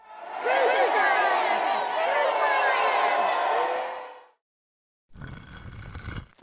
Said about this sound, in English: The crowd shouted.